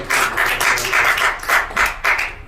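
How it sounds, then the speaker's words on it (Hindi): An audience at an indoor health seminar claps for a speaker, a series of rhythmic bursts of hand claps at a steady beat, moderately loud and with no talking. "जोरदार ताली सर के लिए।"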